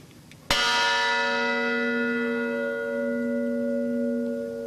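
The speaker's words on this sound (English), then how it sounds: "The bell you will hear is from the USS Arizona." The USS Arizona's bell struck once at a Pearl Harbor commemoration ceremony, a single loud clear strike followed by a long ringing decay.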